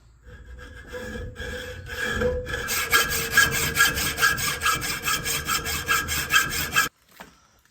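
Close, rhythmic back-and-forth strokes of a hand saw cutting the top off a metal rod, slow at first then quickening into a steady rasp before stopping abruptly.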